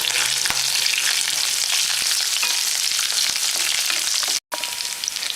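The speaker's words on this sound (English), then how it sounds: "now add garlic, curry leaves, fry it" Garlic and curry leaves fry in a pan for a North Karnataka-style dish, giving a loud, steady, close sizzle with a few stirring scrapes and one brief drop-out near the end.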